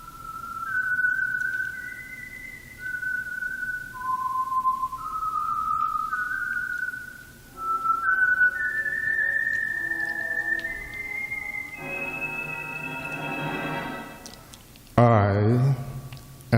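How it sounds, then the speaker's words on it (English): Whistled radio theme identifying the Signal Oil program The Whistler: a lone, eerie melody of clear sustained notes rising and falling, later joined by orchestral music and a sudden loud chord near the end. "the signal to listen for is this whistle that identifies the signal oil program, The Whistler"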